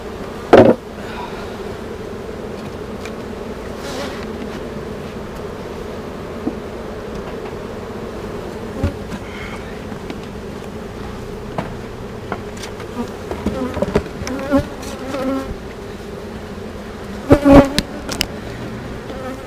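Honeybees buzz steadily around an open, honey-filled hive in a strong colony that has swarmed, a dense continuous drone with occasional louder passes of bees flying close.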